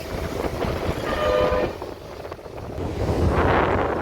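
A train at Tenali railway station rumbles loud and steady, with a brief horn sounding partway through and wind buffeting the microphone throughout.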